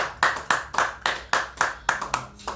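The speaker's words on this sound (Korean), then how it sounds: "자, 박수 칩니다." Eight or nine sharp, evenly spaced hand claps sound close and loud in a steady rhythm, with a brief pause before the last few.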